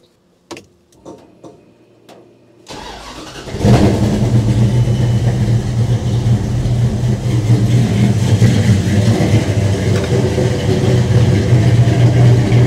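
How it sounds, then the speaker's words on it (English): A 1968 Dodge Dart V8 running cold: a few clicks and a brief crank, then the engine catches and settles into a loud, steady, rumbling idle that continues alone to the end. "The Aces has the car running really, really good."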